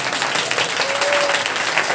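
A church congregation applauds in a dense, steady wash of clapping lasting the whole moment, with no voices standing out.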